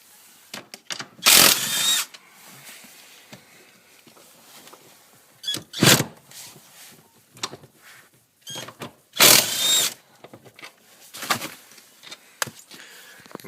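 Power tool spinning out 15mm bolts from a car seat during a heated seat install, in several short loud bursts of whirring separated by quieter handling noises, with no talk.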